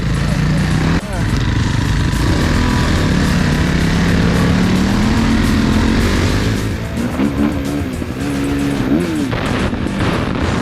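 A dirt bike engine revs hard on an off-road trail, a loud, close, continuous rasping drone with pitch rising and falling through throttle changes, plus wind buffeting.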